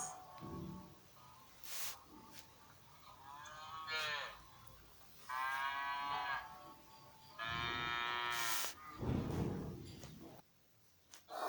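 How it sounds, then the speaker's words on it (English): A cow moos three times in long, loud, drawn-out calls with short pauses between them. A few faint clicks and soft background noise fill the gaps, and no one speaks. "Cow sound is moo."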